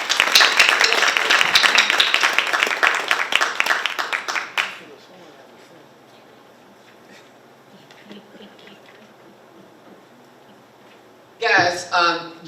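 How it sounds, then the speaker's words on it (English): Loud, dense audience applause at a Black History Month celebration honors two performers, then stops abruptly and leaves a quiet room with faint murmurs before a short burst of clapping or cheering near the end. "Let's give them both a round of applause."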